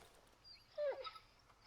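A dying dog in a dark woods video game gives a brief, faint whimper near the middle of a quiet stretch, a short high cry with a wavering tail over low background hum.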